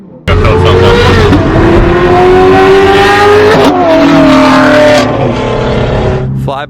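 A car engine revs hard nearby, rising in pitch through a couple of loud climbs and dropping back, with voices talking over the roar.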